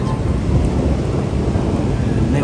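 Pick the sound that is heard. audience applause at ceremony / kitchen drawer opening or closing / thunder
thunder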